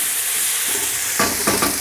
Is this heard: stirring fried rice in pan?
yes